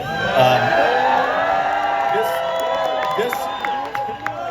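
Spectators at an indoor tennis arena cheer and whoop, a sustained roar of voices with high shouts and whistles rising over the crowd.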